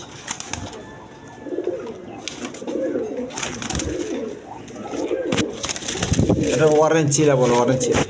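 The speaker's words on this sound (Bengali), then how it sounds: "এখানে এক পেয়ার খাক্কি কবিতর আছে দেখেন" A pair of khaki pigeons of the milky-khaki kind, kept for sale, coo in soft repeated phrases that swell louder toward the end, with a murmur of background voices and bird noise.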